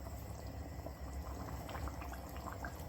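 Chicken korma simmers in a pan on a gas stove, giving a steady, soft bubbling and sizzling that fills the clip with no talk over it.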